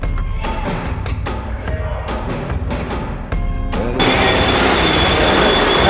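A tram in Hong Kong rolls along the rails with a run of rhythmic clicks, then a louder rushing, hissing roar as it passes close by.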